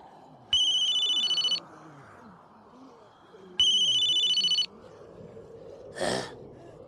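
Phone ringtone in an animated film rings twice in loud electronic bursts about a second long, separated by a quiet gap, with a brief gasp-like sound after.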